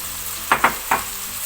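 Vegetables such as cherry tomatoes and red and yellow paprika hitting hot oil in a paella pan, a steady sizzle broken by three quick louder bursts as pieces drop in, close and alone.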